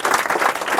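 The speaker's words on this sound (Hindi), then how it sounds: "उसके लिए एक बार और फिर से ताली हो जाना चाहिए" Students clap for a classmate who scored five out of five, a short burst of quick, fairly close applause.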